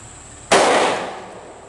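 A single sharp report from a pistol firing hollow point rounds, a loud close crack with a broadband burst that rings and decays over about a second, alone without talk.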